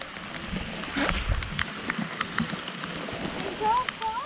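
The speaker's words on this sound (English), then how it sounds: "That's just the rain" Steady rain patters on a surface outdoors on a foggy day during a canoe ride, a soft continuous hiss with scattered drips, while a voice speaks briefly over it.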